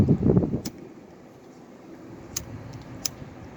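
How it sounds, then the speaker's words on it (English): Wind blusters across an outdoor microphone, a steady low rumble with a few small clicks and a brief muffled sound at the start. "Plus, it's windy as hell today."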